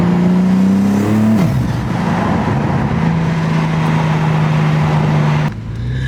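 A 2022 BMW M4 with a loud aftermarket exhaust drones and revs close by, its deep tone dropping and holding through several seconds before cutting back.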